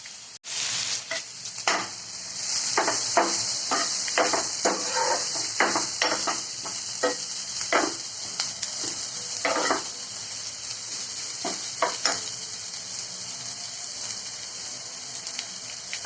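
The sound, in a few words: curry leaves sizzling and being stirred in oil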